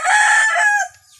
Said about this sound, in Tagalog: Pasensya na kayo mga idol sa manok natin kasi nasa farm tayo